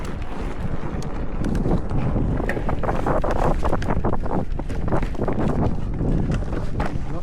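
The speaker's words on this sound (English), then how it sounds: "Quite windy today this morning." Strong wind buffets the microphone in a continuous loud roar, with gusty rumbling and scattered sharper rattles throughout, on a mountain bike ride through forest trails.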